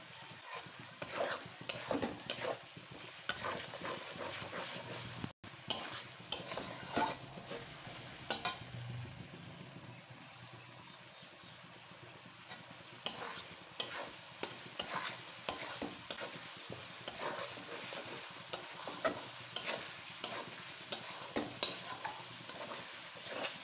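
Meat curry masala is stirred and sautéed in a pan, with repeated scraping clicks of a spoon over a soft, continuous frying sizzle, close and fairly quiet throughout.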